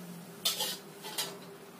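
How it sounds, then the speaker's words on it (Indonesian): Scrambled egg stirred into other fried-snack ingredients in a pan with the heat off. Two bursts of metal utensil scraping and clinking against the pan ring out close and clear over a quiet hum. "Kita campurkan telur yang sudah kita goreng orak-arik ke dalam"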